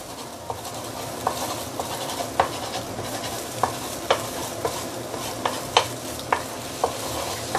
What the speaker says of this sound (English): Break the egg up.